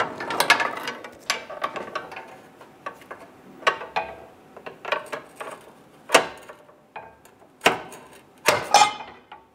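Repeated bursts of ratchet clicking as transmission bracket bolts on a 2008-2017 Buick Enclave 3.6L V6 are snugged down, close and crisp, in short uneven runs with brief pauses between strokes.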